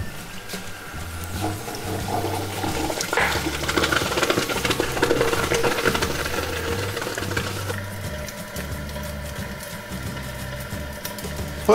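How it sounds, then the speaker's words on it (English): Liquid nitrogen poured into water running down a sink bubbles and hisses in a steady, churning gurgle that continues for several seconds with a low mechanical hum underneath. "Oh, you can hear it bubbling."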